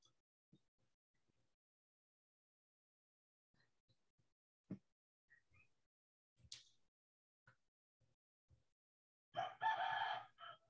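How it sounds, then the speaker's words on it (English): A chicken is heard during an indoor live painting session: scattered soft clucks over near-silence, then a louder, short crow-like call near the end. "And a happy chicken."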